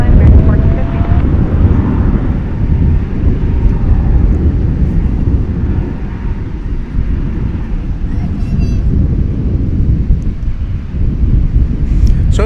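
An American Airlines jet, flight 1415 arriving from Bakersfield, California, lands at Dallas/Fort Worth airport, its broad steady engine roar filling the whole stretch with gusty wind noise mixed in.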